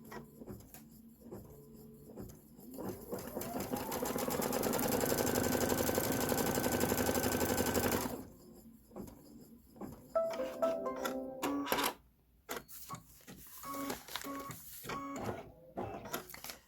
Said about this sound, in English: we are stitching a placement line